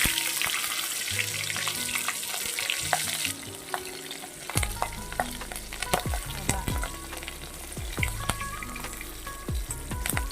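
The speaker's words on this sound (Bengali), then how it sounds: "ফোড়নটা ভাজা হয়ে গেছে" Radhuni, whole cumin and green chilli sizzle in a little oil, a steady bright crackle that turns louder and busier midway, with sharp spatula scrapes and stirs against the pan.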